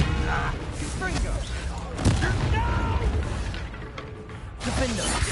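Confringo spell explosions in the Hogwarts Legacy video game, heard as sharp booming bursts, one especially strong hit around two seconds in, amid battle noise, with game voices shouting over them.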